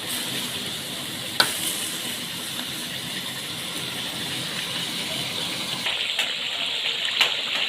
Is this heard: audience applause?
no